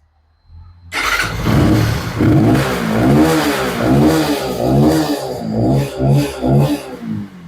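A 2021 Benelli 180 motorcycle in like-new condition fires up and runs close by, its engine note loud and throbbing as it is blipped through a series of rhythmic revs, with no talk over it.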